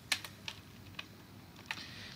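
Sparse keystrokes on a computer keyboard while writing Python code, four or five separate clicks spaced irregularly over a quiet room background, close and fairly soft.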